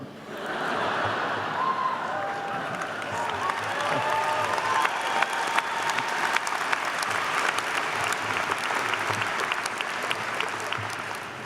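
Sustained applause from a large university commencement crowd, steady clapping that carries on without a break for several seconds.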